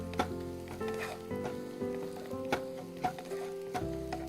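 Onions frying in a pan, a continuous close sizzle with scattered crackles and occasional utensil clicks, alongside a steady low hum.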